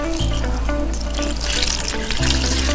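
Water poured steadily into rice bran to moisten a hatching medium for black soldier fly eggs, a loud, continuous close-up splashing rush with a low hum underneath and no talking.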